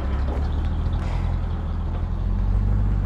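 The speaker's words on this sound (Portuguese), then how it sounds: "o caminhão já partiu" A heavy vehicle engine rumbles steadily at low pitch, a truck pulling away with a constant drone and no voices.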